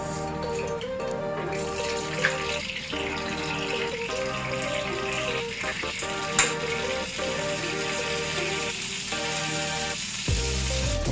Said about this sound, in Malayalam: നമുക്ക് കുറച്ച് കടുക് ഇട്ടിട്ട് പൊട്ടിക്കാം